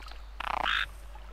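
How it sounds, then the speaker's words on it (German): A frog in World of Warcraft gives a single short croak, a rapid ratcheting burst followed by a higher, brighter trill, close and clear over quiet background. "Jetzt bin ich ein Frosch."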